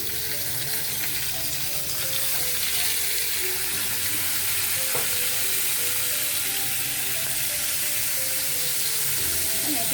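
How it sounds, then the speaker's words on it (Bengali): Fish head frying in hot oil in a frying pan, a steady dense sizzle crackling close and loud throughout, with no voices. "এবারে আমি মাছের মাথাটা দিয়ে দেবো।"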